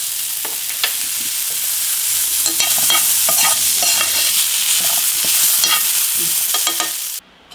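A spoon stirs soya curry frying in a hot pan, making a steady close sizzle broken by repeated scraping strokes. The sound runs without a pause for about seven seconds, then cuts off abruptly.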